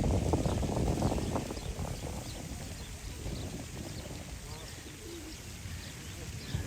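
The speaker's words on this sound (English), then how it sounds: "You can hear all the cooing of all the pigeons." Pigeons coo softly in a Los Angeles park amid steady outdoor city ambience, the low calls faint under the background noise.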